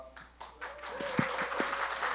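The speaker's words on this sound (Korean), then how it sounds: "지금 박수 소리 들리시죠?" A live audience at a village talk show applauds, scattered claps building into steady clapping that grows louder, heard from within the room.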